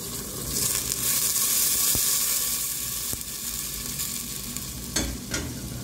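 Broth poured into Algerian chtitha lham, a meat stew, in a hot pan: a loud, continuous sizzle with stirring scrapes and a few sharp clinks, no voices.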